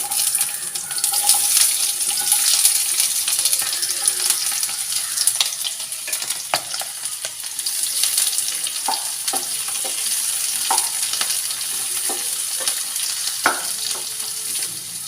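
Onions and green chillies frying in a pan for Kerala toddy shop style beef fry, a continuous bright sizzle with intermittent stirring scrapes and clinks, close and steady throughout.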